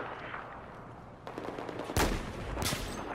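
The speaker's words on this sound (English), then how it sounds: "pay close attention to how close his bullet passes to my shoulder" Enemy sniper gunshot in a shooter game with a bullet passing close, one sharp loud crack in the middle of low ambient rumble, followed by a second burst of noise a moment later.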